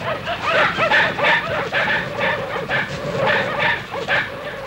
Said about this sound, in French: Quelques minutes après, les chiens les prenaient en chasse. On aurait dit une meute formidable.